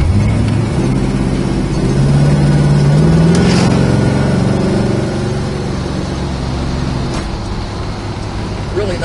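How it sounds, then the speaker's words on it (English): A 1970 Plymouth Superbird-style car drives along, its engine hum steady and loud with a rising pitch sweep as it pulls through gears, road noise constant underneath. "Each shift is nice and clean and crisp, second to third, first to second."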